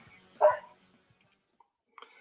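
A dog gives one sharp, close bark in a quiet room, and a faint short yelp follows a moment later.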